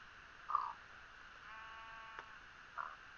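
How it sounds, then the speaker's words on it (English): Two short sheep bleats a couple of seconds apart, moderately distant, over a quiet outdoor background. "There are some sheep."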